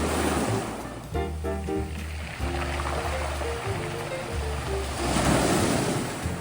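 Waves wash and roll over a round-pebble beach in Busan in a continuous hiss and rumble, with faint tonal hum beneath and a swell surging louder near the end.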